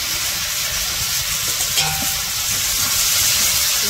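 Vegetables go into a pan of fried ginger and garlic spice paste, setting off a loud, continuous close sizzle and hiss that holds steady throughout with no voices.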